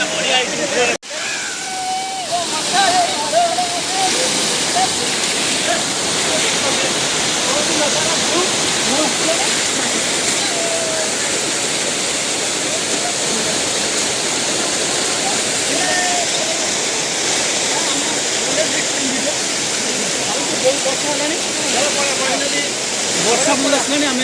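Rushing water of Champeswar waterfall, a dense steady roar of falling and splashing water filling the whole stretch, loud and continuous, with indistinct voices faintly mixed in.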